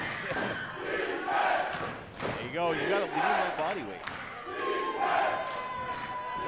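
Wrestling crowd at an NWA live event cheering and shouting in a steady swell, with a commentator talking over the noise throughout.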